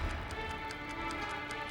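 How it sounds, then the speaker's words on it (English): Quiet, steady ticking from a package at a quick even pace, like a clock mechanism, continuing on its own without any voices. "It's ticking."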